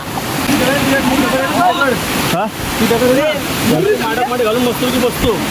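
A continuous, close, heavy roar of falling water at Keloshi waterfall fills the scene, with people talking over the rushing flow.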